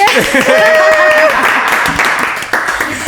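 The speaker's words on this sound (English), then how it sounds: "Let's clap for her too." Light audience clapping at a casual stage event, mixed with overlapping voices, whoops and chatter in a lively room.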